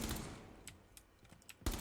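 Gunfire in the Rainbow Six Siege shooter game, with a short burst at the start, a few scattered sharp shots in the middle and another loud burst at the end, fairly faint overall.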